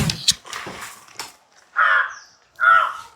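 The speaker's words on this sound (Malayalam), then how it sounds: "അയ്യേ വൃത്തികെട്ട കാക്ക." A crow caws several times nearby, harsh loud calls in separate bursts, with some scuffling noise before the first caws.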